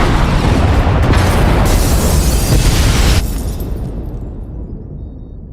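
A heavy, sustained roar of explosions as pod bays are destroyed in Star Wars: The Old Republic, loud and dense for about three seconds before dropping to a fading rumble.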